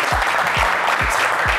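A studio audience on a televised game show applauds loudly and continuously for a brief moment, thick clapping with low thumps pulsing beneath it.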